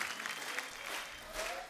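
Audience applause greets a music director as he arrives at a television comedy talk show, a steady wash of clapping from a studio crowd that swells briefly near the end.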